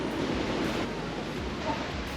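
Pacific Ocean waves just after a typhoon, a continuous broad rush of surf and churning water, faint and steady with a faint wind wash and no clear breaks.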